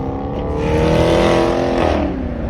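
Dodge Charger ScatPack engine revving hard, a loud, close, sustained roar that climbs in pitch and then drops back, with no talking over it.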